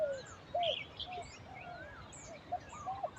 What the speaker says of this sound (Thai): ฟังเสียงนกร้องกุ๊กกุ๊กกุ๊ก